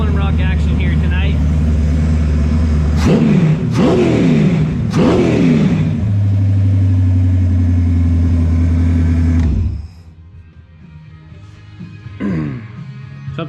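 A hobby stock race car engine on a run stand in a garage revs hard in several sharp bursts, then holds a loud steady roar before cutting off abruptly, leaving a quiet room with a faint blip afterward.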